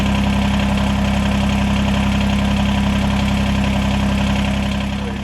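A Kubota BX2380 compact tractor engine runs steadily with the rear PTO engaged, a close, loud, even mid-pitched drone with constant vibration and no voices.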